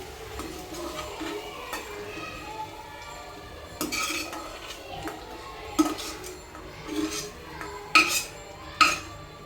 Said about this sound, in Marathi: मसाला आपण थंड करण्यासाठी आता एका प्लेटमध्ये काढून घेऊ